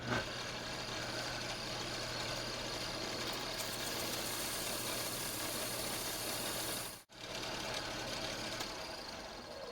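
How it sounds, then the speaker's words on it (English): A belt sander flattens and shapes a wooden fishing lure piece, a loud continuous motor whir and grinding hiss that dips for an instant near the end before resuming. "I'm going to go ahead and hit this on the belt sander, flatten it out, shape it a little bit"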